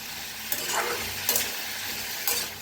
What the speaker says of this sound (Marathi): बटाटो असं छान भाजून घेतले बघा सारखा ते हलवत भाजायचा म्हणजे फार चिटकत नाही बटाटा